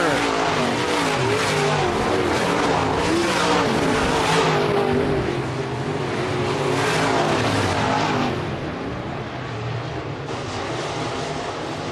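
Race cars roar around an oval speedway during a late-lap battle for the lead, engines rising and fading as they pass at mid distance, under loud commentary from an announcer.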